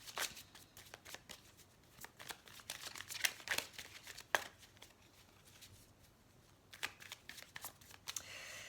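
Tarot cards being shuffled, a series of quick, crisp riffling bursts with short pauses between them, close up and fairly quiet.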